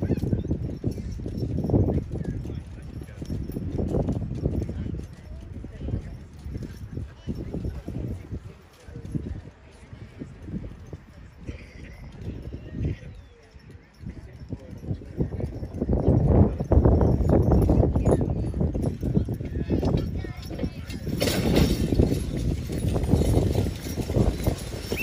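Hooves of draft horses clip-clop on the ground at a horse pulling contest, irregular bursts of heavy thuds coming and going over about twenty-five seconds while an announcer talks over the crowd.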